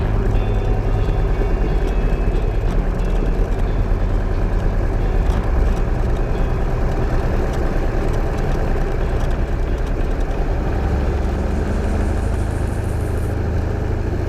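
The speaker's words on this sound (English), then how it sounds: "Throttle up, hold a little bit of back pressure on the control wheel, and accelerate down the runway center line." Light aircraft engine at full power during a takeoff roll down the runway centre line, a loud, steady, droning roar from inside the cabin, with no speech.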